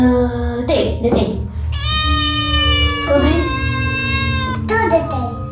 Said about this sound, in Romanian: Am auzit un urlet de miaunat.